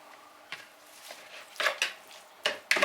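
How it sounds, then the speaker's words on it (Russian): Melted butter and sugar are stirred in a bowl, with several scraping strokes and soft clinks of a utensil against the side, close and quiet, in irregular bursts. "Так, перемешиваем."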